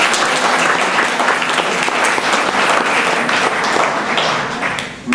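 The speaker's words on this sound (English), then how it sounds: "Let's give them a round of applause." Loud, full audience applause fills the room for about five seconds, a dense, steady clapping that tapers off right at the end.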